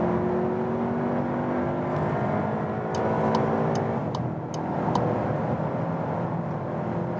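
VW Passat (2020 facelift) accelerating onto a German Autobahn, a steady loud road and engine drone with rising tones and wind rush throughout, heard from inside the car with no talk.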